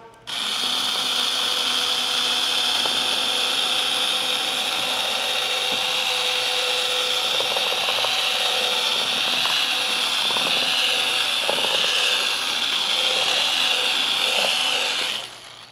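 A power drill whirs continuously against a Tesla-style 14.4-inch touchscreen in a Ford F-150 during a screen durability test, a loud, steady high-pitched grinding drone with scraping bits, starting and stopping abruptly.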